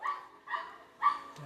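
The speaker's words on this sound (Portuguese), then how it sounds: "Tem um cachorro latindo aqui fora." A dog barks outdoors three times in an uneven rhythm, sharp yelping barks heard at a moderate distance and fairly faint, with no voices over them.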